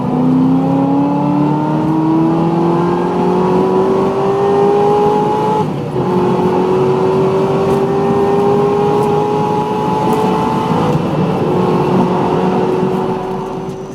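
Chevrolet Corvette C6 ZR1, a 638-horsepower rear-wheel-drive supercar, with its engine note climbing steadily through a long, loud, continuous rev and a brief dip partway before pulling up again; no voices.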